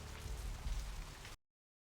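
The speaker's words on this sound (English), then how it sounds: "It's pouring rain." Heavy rain pouring down in the video game Vampire: The Masquerade - Bloodlines, a dense, steady patter of rain on surfaces lasting just over a second before cutting off abruptly, with no talk.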